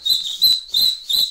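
A voice imitates a football referee's whistle, giving four short, shrill, close whistle-like bursts in a quick, even rhythm.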